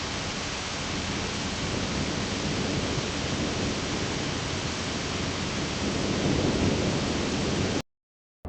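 Thunderstorm with heavy steady rain and rumbling thunder, a dense continuous wash of downpour that swells slightly near the end before cutting off abruptly to silence.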